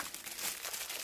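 Close, soft crinkling of wrapping paper, a continuous rustle with small irregular crackles for about a second.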